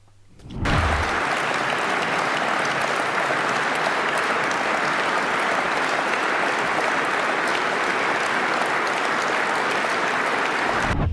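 Long, steady applause from a studio audience on a Georgian satirical talk show, a dense wall of clapping that starts abruptly and holds at full strength to the end.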